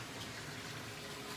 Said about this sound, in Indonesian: Ada keran juga, wastafel.